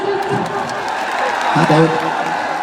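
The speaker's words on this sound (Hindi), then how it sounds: "जोरदार तालियों से" An audience at a public gathering in Bhopal applauds a speaker being welcomed, a dense, steady wash of clapping with some voices mixed in.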